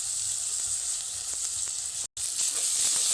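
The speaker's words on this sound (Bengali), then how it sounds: "এবার আদা রসুনের কাঁচা কাঁচা যাওয়ার জন্য এক এটাকে কড়াইতে মেরে নেব" Ginger-garlic paste frying with onions in a wok, a loud close sizzle with soft stirring scrapes, broken by a brief moment of silence before the sizzling resumes.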